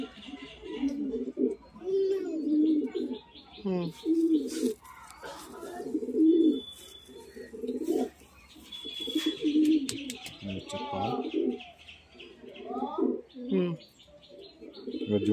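Pigeons coo repeatedly in soft, rhythmic bursts close by, with occasional chirps and brief electronic beeps between calls.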